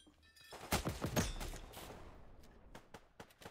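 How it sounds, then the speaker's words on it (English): Rapid bursts of blaster-style gunfire from the Star Fox 64 video game, a loud cluster of shots followed by sparser sharp reports trailing off, with no talk over them. "I love shooting!"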